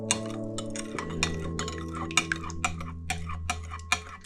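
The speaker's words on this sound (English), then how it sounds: "I'm just going to stir it with a spoon" A spoon stirs Bird's trifle jelly in a bowl to dissolve it, giving a string of light clinks and ticks at an irregular rhythm over a low steady hum.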